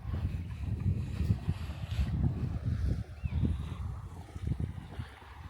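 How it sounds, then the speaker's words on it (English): Steady wind and waves rumble at Leavenwick Beach, a golden-sand beach in the Shetland Islands, with gusty low roaring noise and no talk. "And this, guys, is Leavenwick Beach."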